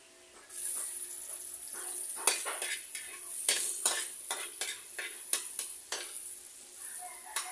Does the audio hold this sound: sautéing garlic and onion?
yes